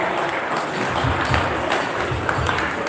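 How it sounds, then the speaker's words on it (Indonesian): A crowd at a national assembly claps continuously, a steady wash of applause that stays even in loudness throughout. "Sekali lagi kita beri tepuk tangan untuk Aman Kombes."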